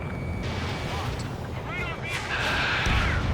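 Anti-air guns firing in a combat video game: rumbling bursts of flak and booming blasts under a dense battle din, with faint voices mixed in.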